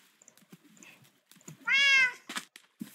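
Cat in a video game gives one clear, loud, drawn-out meow partway through, set among soft clicks and faint background noises.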